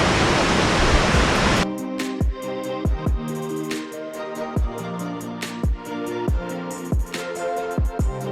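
Roaring rush of water at the top of a waterfall near Seymour Arm, loud and broadband for under two seconds before music with plucked tones and beats takes over.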